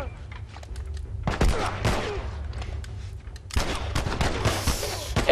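Gunfire in The Last of Us video game, sharp shots and bursts that come in two loud clusters over a low, rumbling ambient bed.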